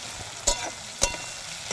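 Chopped tomato sizzles steadily in a hot pan while being stirred, with a few sharp scraping clicks of the spoon against the pan over the continuous frying hiss.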